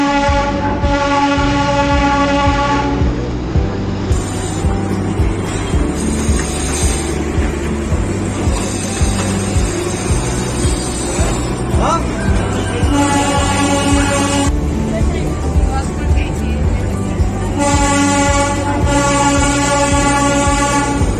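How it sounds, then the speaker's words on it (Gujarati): A Darjeeling toy train runs through narrow streets and a busy bazaar, its engine rumbling steadily up close while the horn sounds in several long blasts with short gaps between them. "દાર્જિલિંગની ટોય ટ્રેનની સૌથી અનોખી વાત એ છે કે તે માત્ર રેલવે ટ્રેક પર જ નહીં પરંતુ દાર્જિલિંગની સાંકડી ગલીઓ અને ધમધમતા બજારની વચ્ચેથી પણ પસાર"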